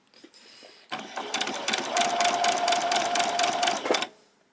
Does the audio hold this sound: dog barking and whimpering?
no